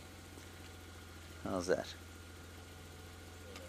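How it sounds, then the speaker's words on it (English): A safari vehicle's engine idles in a low, steady hum that runs throughout while a person speaks briefly over it. "I'll just leave the engine running."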